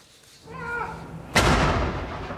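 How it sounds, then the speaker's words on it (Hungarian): A single heavy boom from cannon fire in a 21-gun salute at Edinburgh Castle, a loud sudden blast that rolls out over a sustained echoing tail after a brief higher-pitched sound, with no speech. "Uralkodó érkezett a városba, 21 ágyúlövés jelezte jöttét."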